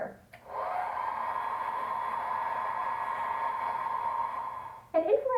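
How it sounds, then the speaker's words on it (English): A hair dryer switches on and blows with a steady whooshing hum for several seconds, then cuts off and a voice begins speaking. "Blow dryer."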